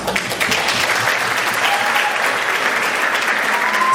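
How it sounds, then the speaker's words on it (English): Loud, sustained applause from a crowd at an elementary school graduation ceremony, dense steady clapping close by with no break for four seconds. "So I want to give you a round of applause myself."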